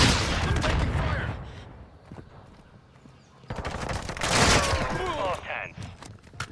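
Gunfire in the video game Call of Duty: Modern Warfare II, with rattling bursts and scattered shots that fade to a lull and then swell into heavy fire again, mixed with shouted voices and combat noise.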